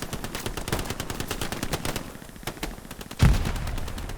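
Machine gun fire rattles in rapid bursts in the World War II shooter Hell Let Loose during an 18-versus-18 tournament match, with a pause and then a loud heavy blast near the end.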